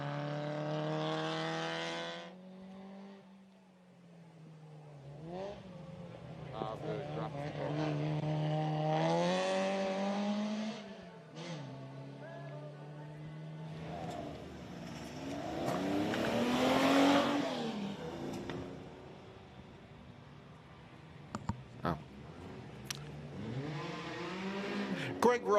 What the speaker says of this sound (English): Greg Ross racing the Jaguar XJ13 replica